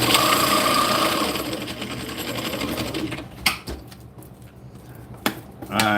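Fishing line being wound onto a big spool gives a steady mechanical whirring hum that runs for about three seconds, then stops, followed by a few sharp clicks and knocks, close up, with no talk.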